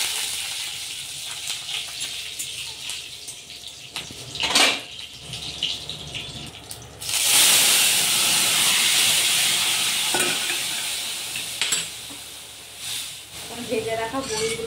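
Green chillies and panch phoron sputter in hot oil for Bengali shukto, a broadband hiss that surges loudly midway and then tapers, with scattered crackles and speech at points.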